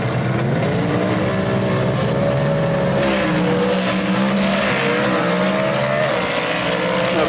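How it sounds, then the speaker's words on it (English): Gasser drag race cars at Union Dragway roar continuously in a loud, steady engine drone, with an announcer's voice woven underneath. "Ken Rainwater out of Kimberly, Alabama, in the quick time performance lane on the left-hand side in that car he calls the Renegade."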